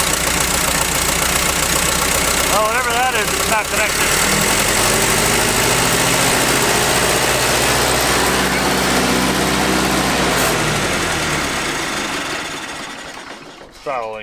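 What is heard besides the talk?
old abandoned tractor engine revving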